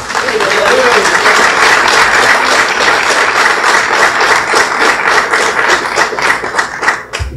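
Sustained applause from a crowd at a public policy meeting, steady and loud for several seconds, tapering off near the end.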